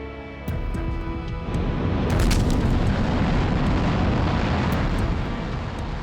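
Heavy V2 rocket explosion rumbling over wartime Britain, a deep continuous roar that swells after half a second and stays loud and sustained, with faint sharp crackles above it.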